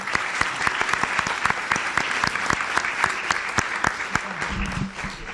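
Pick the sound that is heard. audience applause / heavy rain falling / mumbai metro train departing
audience applause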